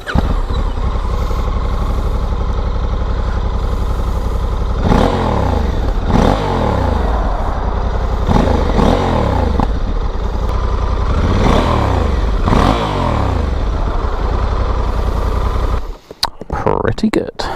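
A Honda Africa Twin 1100cc twin-cylinder motorcycle engine idles loudly, then revs up in four or five sharp bursts that each fall back, ending with a brief clattering rustle.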